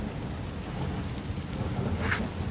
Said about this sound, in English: it's not a storm, it's just rain. Just boring old rain.